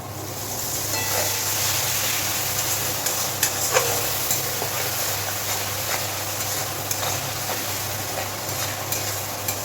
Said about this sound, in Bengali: খুব ভালোভাবে এবার মশলাটাকে কষিয়ে নেব, যাতে পুড়ে না যায়, তাই অল্প একটুখানি জল দিচ্ছি